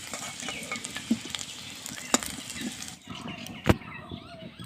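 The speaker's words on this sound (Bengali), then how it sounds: "আলুটা লাল লাল করে ভেজে নেব" Potatoes frying in hot oil in a home kitchen, a soft steady sizzle broken by occasional stirring clinks and scrapes of a utensil against the pan.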